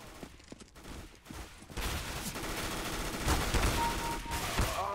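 Rapid video game gunfire from a CS:GO Arms Race match, with dense bursts of shots growing louder and more continuous after the first couple of seconds, close and sustained with occasional sharper cracks.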